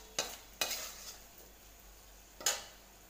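Potato rice being mixed in a pan: a faint background hiss broken by three sharp spoon-against-pan scrapes and knocks, two close together early and one later, with no speech.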